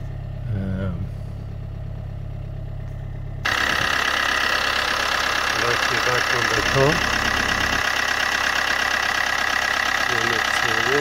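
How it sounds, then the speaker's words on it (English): A diesel car engine idles steadily after its battery was revived, a continuous loud mechanical rumble with a slight knock, while someone talks over it. "it works straight away, perfectly. And this is a diesel engine."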